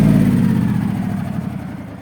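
A steady, close engine idling on its own, a low continuous rumble that holds a fairly even level and eases slightly toward the end.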